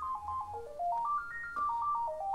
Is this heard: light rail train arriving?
no